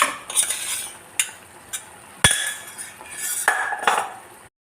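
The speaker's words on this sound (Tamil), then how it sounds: "ஆஃப் பண்ணிவிட்டு இதில் நம்ம வடித்து வச்ச சாதத்தை போட்டுடலாம்." Cooked rice tipped into a pan for mint rice brings metallic clinks and scrapes of a spoon against the pan, several distinct knocks close by, with no talking.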